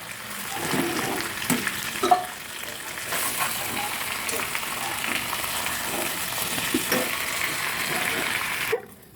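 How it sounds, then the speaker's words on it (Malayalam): Chicken sizzles steadily in a hot pan after being turned to brown the other side, a continuous close frying hiss with a few clinks and stirring knocks, cutting off abruptly near the end. "നമ്മുടെ ചിക്കൻ തിരിച്ചിട്ട് കൊടുത്തിട്ടുണ്ട് ആ സൈഡ് കൂടെ ഒന്ന് മൂത്ത് വരട്ടെ"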